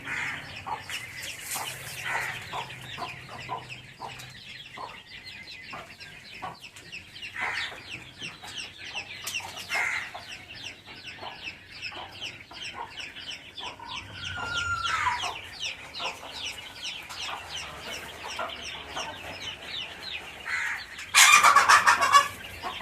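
Chickens on a poultry and quail farm in Urapakkam, Chennai, clucking and chirping continuously, mostly soft and moderately close, with a louder burst near the end.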